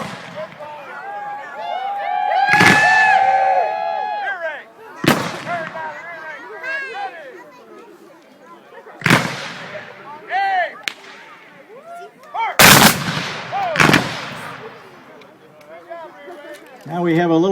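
Musket volleys at a Civil War reenactment during a Memorial Day weekend event: several sharp, loud blasts spaced seconds apart, each echoing, with a narrator talking throughout and crowd noise between shots.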